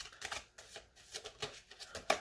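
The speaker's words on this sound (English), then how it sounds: "I kind of suck at overhand shuffling." Overhand shuffling of a deck of playing cards, a close, uneven series of soft riffling slaps in quick bursts, ending with a slightly sharper snap.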